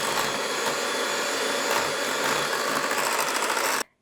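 A mixer whirs steadily through keto carrot cake batter made with pork rind flour and coconut oil. The loud, even motor drone runs without a break and then cuts off abruptly at the end.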